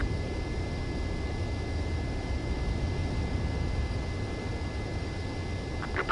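A steady broad roar from the ADF-01 Falken jet in Ace Combat 7 as it comes in to land on a runway, a constant loud engine and wind rush holding level throughout with no voices.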